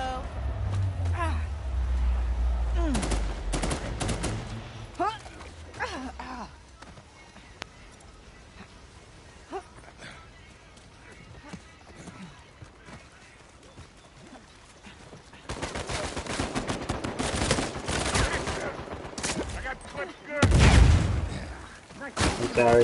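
Gunfire in a video game, with bursts of shots and sharp impacts spread through the clip, loudest near the end, mixed with other game noise.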